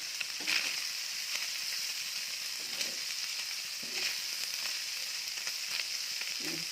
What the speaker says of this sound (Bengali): একটু ভাজা হয়ে গেছে, আর একটু ভাজতে পারি